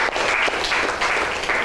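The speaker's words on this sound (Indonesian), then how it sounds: "Kita tepuk tangan dulu." Classroom applause from a group of students, dense clapping in a few loud pulsing waves over a short span, near and continuous with no talking.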